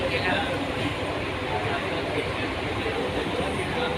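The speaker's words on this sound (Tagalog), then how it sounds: "So andito tayo sa loob ng MRT." A steady, broadband rumble of a moving Kuala Lumpur MRT metro train fills the space from inside the carriage, constant and fairly loud.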